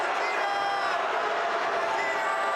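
A wrestling arena crowd voices disapproval in a loud, dense roar of shouts and jeers that stays steady over a couple of seconds.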